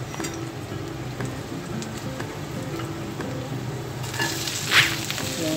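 Onion frying and being stirred in a pan for bitter gourd with oyster sauce, a steady close sizzle with a brief brighter crackle near the end.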